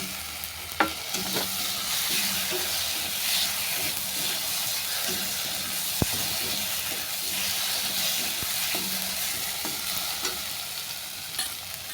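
Spice paste frying in a pan with fried elephant foot yam and chopped tomato, a steady close sizzle and hiss with occasional stirring scrapes and clinks throughout.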